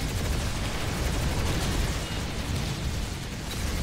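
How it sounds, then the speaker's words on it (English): A relentless barrage of gunfire and explosions in a video game battle, loud and continuous with dense overlapping blasts and no pauses, with no voices. "God, the barrage of fire"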